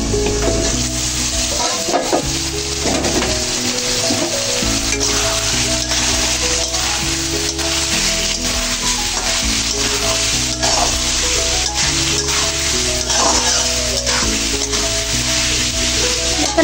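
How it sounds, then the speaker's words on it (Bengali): Curry with potatoes, vegetable stalks and rohu fish sizzles steadily in a pan as it is stir-fried, with a constant loud hiss and occasional scrapes and clinks of a utensil against the metal. "এদিকে তো আমি তরকারিটা কষাতে দিয়েছি"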